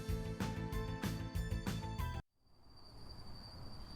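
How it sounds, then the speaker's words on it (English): Crickets chirping along dimly lit streets at sunset in a video game, a faint steady chirr that emerges right after louder bright music cuts off abruptly. "The two of you strolled down the dimly lit streets with only the sound of crickets chirping in the background"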